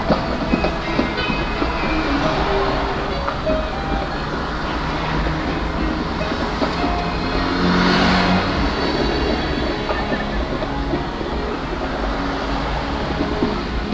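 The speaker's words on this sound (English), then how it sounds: "I'm going to roll my windows down so we can hear some of the crazy sounds of the Strip." Steady traffic and street noise on the Las Vegas Strip heard through an open car window, a continuous rushing wash of passing vehicles and wind with a swell near the middle and no talking.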